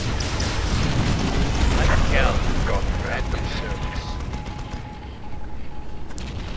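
A Leman Russ tank destroyed in a Warhammer Steel Legion battle, heavy rumbling explosion and mechanical clatter within dense, loud battle noise, sustained throughout.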